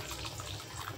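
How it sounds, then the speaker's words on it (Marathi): A little hot water is poured into a pan of paneer and peas, giving a steady, close, moderately loud watery rush with no talking over it. "आणि हे थोडंसं गरम पाणी टाकायचं त्याच्यात."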